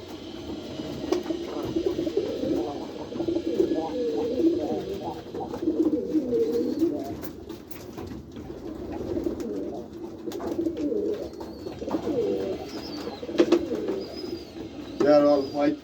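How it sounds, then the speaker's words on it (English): White pigeons cooing in a loft, a steady low murmur of many overlapping coos running throughout, with brief flutters and a person talking intermittently over it. "They are all white pigeons."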